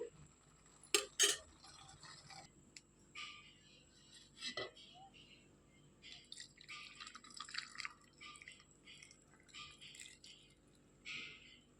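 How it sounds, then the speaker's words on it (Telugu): Melted jaggery syrup being filtered through a strainer into a pot, with faint, scattered drips and occasional light metallic clinks of utensils in a quiet kitchen. "ఇట్లా కరిగించుకున్నాక దీన్ని ఫిల్టర్ చేసుకోవాలి"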